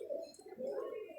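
Pigeons at a pigeon club give a brief, soft, low cooing call, close and quiet.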